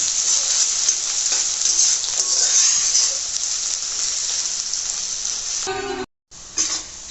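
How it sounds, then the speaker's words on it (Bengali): Chopped onions sizzle and fry steadily in foaming mustard oil for a Bangladeshi Eid beef korma, a loud continuous hiss with occasional stirring that breaks off briefly near the end. "পেঁয়াজ এখন এটাকে আমি ভালো করে একটু ব্রাউন কালার করে ভেজে নেব"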